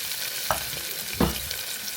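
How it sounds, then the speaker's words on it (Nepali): Onion sizzles in a pan with a constant hiss, broken by a couple of soft scraping stirs, close and steady with no talking. "प्याजलाई अलिकति गल्न दिउँ है।"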